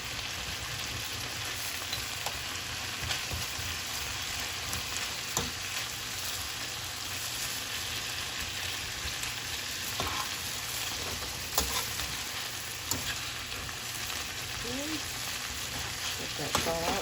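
Ground beef for tacos sizzles and crackles steadily in a pan, a continuous broadband hiss with occasional scrapes and clicks, close and fairly loud throughout, with no talking.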